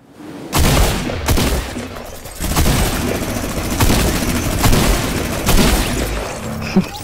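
Fire SMG gunfire in Fortnite Duos gun game: loud, rapid bursts of automatic fire with sharp repeated shots and booming impacts, continuous over several seconds with short pauses between volleys.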